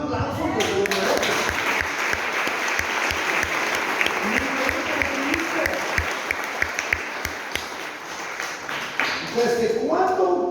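A church congregation breaks into sustained, loud applause, a thick wash of clapping with faint voices at the start and end.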